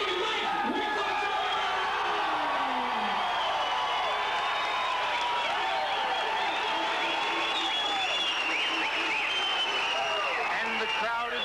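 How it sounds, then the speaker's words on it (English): A pro kickboxing arena crowd roars with sustained cheering, whistles and applause, loud and continuous throughout, with shouts rising out of the din and an announcer's voice faintly underneath. "And the crowd is electrified."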